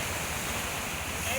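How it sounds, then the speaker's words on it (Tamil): Water rushing steadily across a rain-eroded road after heavy rain, a continuous broadband wash close to the microphone, running without pause and with no voices. "தண்ணி போகுது."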